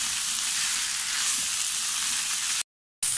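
Thick-cut chunks of capsicum frying in a pan, a steady bright sizzle close by, broken by a brief silent cut near the end before the sizzling resumes.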